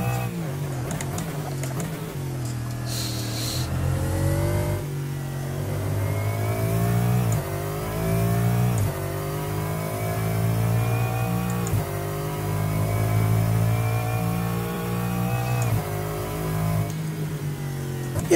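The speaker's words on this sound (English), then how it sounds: "that's the United Racing Design version of a Lexus GT3 car" A United Racing Design Lexus GT3 race car in a racing video game revs steadily, its engine note climbing and dropping through repeated gear changes in a continuous, loud drone.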